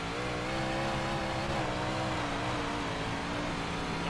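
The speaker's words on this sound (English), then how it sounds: "See how much better the car drives now?" A big block modified race car drives on a fresh track, its engine a continuous loud roar held at steady throttle throughout.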